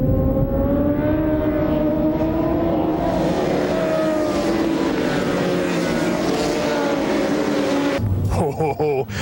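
A Suzuki GSX-R 750 sport motorcycle engine at a racing event, loud and steady with droning harmonic tones that climb as it revs, then a sudden cut to a different engine noise near the end.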